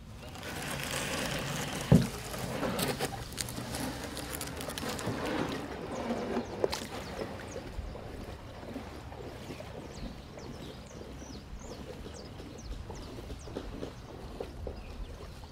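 A wooden fishing canoe moves out on the sea, with steady wind and water wash, a sharp knock near the start and faint scattered bird calls throughout, with no voices.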